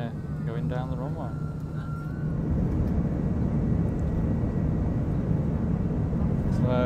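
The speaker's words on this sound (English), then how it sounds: "Okay, so we're about to take off. Okay, here we go. We are going down the runway." An Aer Lingus airliner accelerates down the runway at Manchester for takeoff, heard from inside the cabin: a dense, steady engine roar and rumble that swells louder after a couple of seconds, with a faint voice and a thin tone early on.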